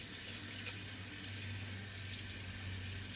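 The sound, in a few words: rinsing a synthetic shaving brush under water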